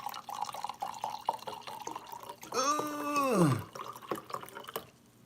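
Wine poured from a heavy bottle into a glass, a rising gurgling glug of liquid after a few light clinks and drips, close and clear with no talk over it.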